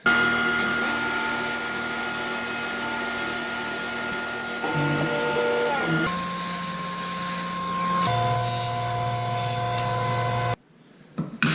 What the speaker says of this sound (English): I'll make this 45 on the table saw